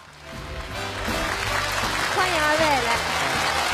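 Studio audience applause at a televised comedy sketch show, clapping swelling from quiet to a sustained loud patter as a host speaks over it.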